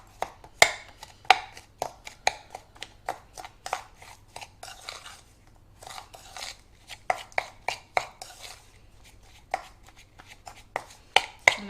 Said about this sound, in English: just give that a little stir